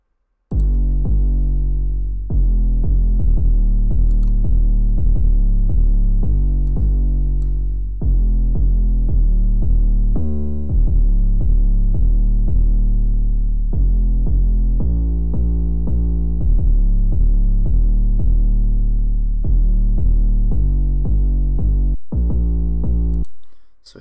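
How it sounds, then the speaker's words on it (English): A distorted 808 bass with its high frequencies rolled off, programmed in FL Studio for a beat: long, heavy, buzzing sub-bass notes played in repeating phrases with short gaps, loud and alone. "So with the 808, just add a little bit of a distortion,"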